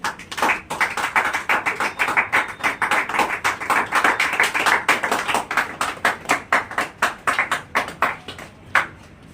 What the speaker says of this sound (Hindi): तो एक बार जोरदार तालियां हमारे मंटू सर के लिए प्लीज।